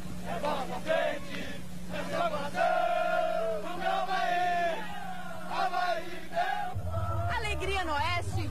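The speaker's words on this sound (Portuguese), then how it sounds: "Vamos ouvir aqui a festa dos torcedores junto com os jogadores" Avaí football fans celebrating with the players on Beira-Mar Norte after the 1997 Catarinense match against Chapecoense, a crowd of voices chanting and shouting in rhythmic, sung bursts, heard fairly faintly throughout.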